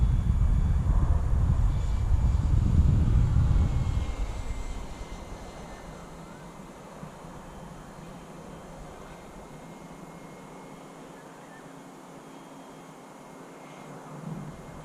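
A fast 6s-powered EDF model glider passes overhead with a loud rushing whine that fades after about four seconds into faint wind and distant hiss.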